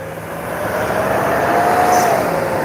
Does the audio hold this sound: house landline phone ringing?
no